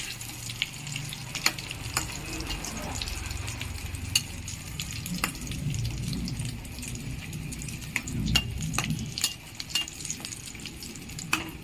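Egg cutlets fry in hot oil in a home kitchen, a steady close sizzle with sharp crackling pops and occasional light clinks of a turner, with no voices.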